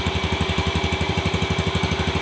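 A Yamaha motorcycle engine idles during carburetor CO mixture adjustment at around 1350 RPM, giving a steady, fast, even thudding putter close by with a rhythmic low pulse and no voices.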